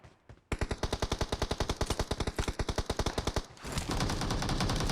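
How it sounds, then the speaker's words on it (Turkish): Automatic gunfire in PUBG Mobile on Erangel or Livik: a rapid burst of around thirty evenly spaced loud shots for about three seconds, then a rumbling wash of noise. "Sağdan sıkıyorlar."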